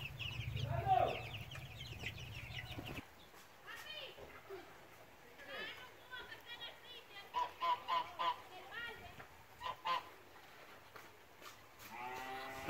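Geese on a countryside farm kept with chickens and ducks honk in a run of loud, clipped calls, with people's voices in the background.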